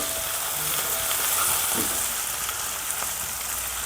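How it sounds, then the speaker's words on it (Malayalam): Onions, curry leaves and green chillies sauté in a pan for Kerala-style chicken perattu, giving a loud, continuous hissing sizzle with a faint stir or two. No voices. "കറിവേപ്പിലയും പച്ചമുളകും സവാള എല്ലാം കൂടി ഒന്ന് ഒന്നിച്ചിട്ട് നമുക്ക് വഴറ്റിയെടുക്കാം"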